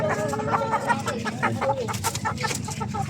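Several free-range native chickens cluck and chatter nearby in a continuous busy stream of short calls.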